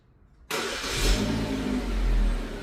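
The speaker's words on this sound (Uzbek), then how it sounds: "Telefondan zavod qilsak bo'ladi." A Chevrolet Cobalt engine is remote-started from a phone through a StarLine system; after a quiet moment it abruptly cranks and catches, then settles into a loud, steady idle with a brief rise in revs.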